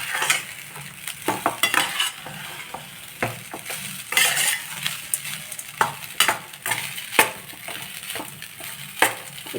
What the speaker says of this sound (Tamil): சால்ட்டும் சேர்த்து நல்லா கிளறிடலாம்.